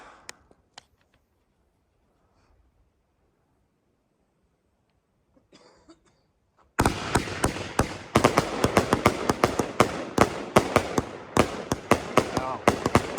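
Near-silence with a few faint clicks gives way abruptly at about seven seconds to a dense, loud barrage of crackling, popping firework explosions from a pyro demo. The barrage continues rapidly to the end.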